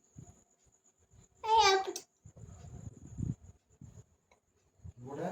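A cat gives a single loud, drawn-out meow near the start, followed by quieter indoor talk and household sounds.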